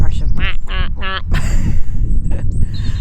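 A person imitates a female duck with a few short, nasal, cartoon-like quacks in quick rhythm, followed by a louder burst of noisy sound and a trailing call. The quacks sound close and loud.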